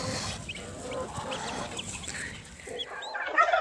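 Broody hens cluck softly and intermittently amid a busy farmyard hum, with a few higher chirps near the end, close and fairly quiet.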